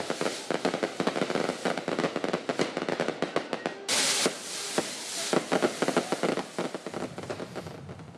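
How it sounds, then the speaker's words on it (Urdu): Dense fireworks and firecrackers pop and crackle in rapid irregular bursts at a night-time celebration of a Muslim League-N by-election win in Pakistan, with a hissing burst midway and no clear voices. "آتش بازی کی گئی"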